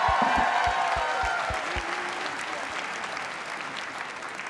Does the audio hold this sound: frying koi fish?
no